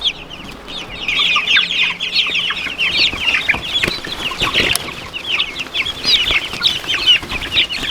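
A flock of meat chickens clucks and chatters busily and continuously at feeding, with occasional wing flaps and rustling, close by.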